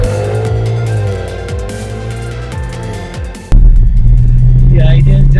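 An Audi RS4 R1 sets off on a lap across ice, its engine rumbling and revving through gear changes with rising and falling pitch as someone talks over it.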